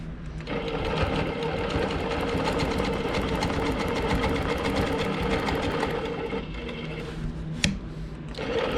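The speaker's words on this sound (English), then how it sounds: "just trying to stay on the inside for the stitch in the ditch" A longarm quilting machine stitching in the ditch at a moderate pace, with a dense, steady mechanical whir and rapid needle chatter running continuously at close range and one brief sharp click near the end.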